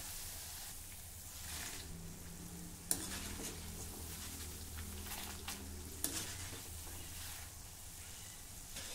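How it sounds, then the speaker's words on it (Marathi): Spicy shankarpali snacks fry in oil over a medium flame, giving a soft, continuous sizzle with gentle stirring and two faint clinks of a utensil against the pan. "आता मध्यम गॅसवर आपल्याला हे छान खमंग तळायचे आहे."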